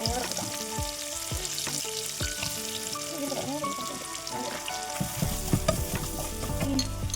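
Onions sizzle and crackle as they fry in prawn-flavored oil for a biryani, with scattered stirring scrapes and pops over a steady hiss, close and fairly loud throughout.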